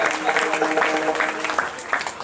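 An audience at a Marathi kirtan claps together, a continuous busy patter of hands mixed with voices and music, fairly close and steady.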